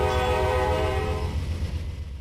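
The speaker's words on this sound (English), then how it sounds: "An Amtrak train with a P40D with some private cars behind it." A simulated Amtrak P40D locomotive hauling private cars sounds a long, loud multi-tone horn over a heavy diesel rumble, the horn cutting off partway and the engine noise fading as it passes.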